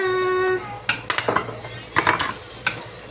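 Cabbage and chili being stirred into pancit bihon in a metal pan, a series of sharp clinks and scrapes of a utensil against the pan following a sustained ringing tone.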